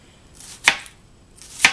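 Two crisp knife strokes slice thinly through vegetables for sweet potato soup, each a soft drawing swish ending in a sharp tap on the cutting board, close and alone.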